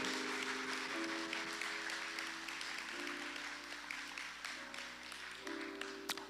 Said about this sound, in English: please go ahead and encourage them and clap them out as well